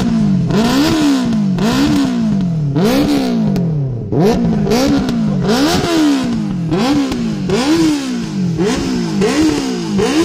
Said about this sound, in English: So this is RPN exhaust sound.